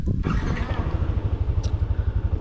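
A 2018 first-generation Yamaha NMAX scooter idles while warming up, a steady low pulsing engine putter heard close and alone, with a faint brief clatter midway.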